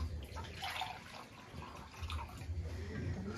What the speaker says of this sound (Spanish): hay que ponerle una taza y media de agua fría